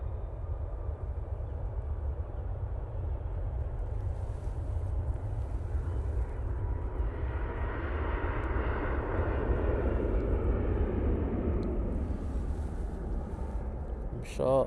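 Airliner bound for Boa Vista rolling down the runway for takeoff at Manchester Airport, a steady distant engine roar that swells into a broad rumble midway, heard from afar with a faint voice in the background.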